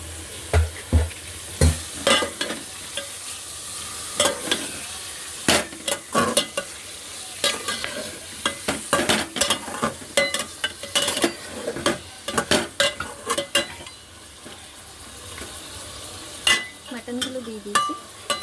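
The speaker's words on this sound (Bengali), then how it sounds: "মাটনগুলো দিয়ে দিয়েছি, 5 মিনিট ভেজে নেব।" Mutton pieces fry with lightly browned onions in a pan, stirred steadily: a continuous sizzle under frequent sharp scrapes and clinks of a spoon against the pan, close up, with no talking.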